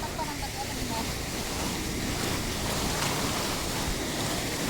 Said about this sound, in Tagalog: Kaya malalaki na yung alon.